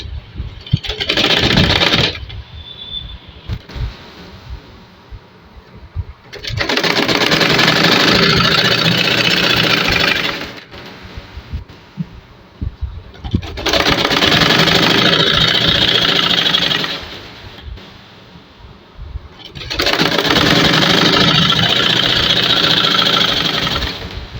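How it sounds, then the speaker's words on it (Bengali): A sewing machine stitches a half-inch fold for the elastic waistband of easy pull-on pants, close and loud, in three long steady runs of rapid motor whir separated by short pauses. "এবারে রাবারের জন্য আধা ইঞ্চি পরিমাণ ভাঁজ দিয়ে সেলাই করতে হবে।"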